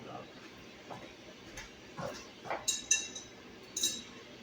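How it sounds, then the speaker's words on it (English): A heavy clear glass bowl being handled in a home kitchen while making Greek yogurt with mixed fruit, giving a few light clinks and taps near the end, under soft background talk. "I have my glass bowl"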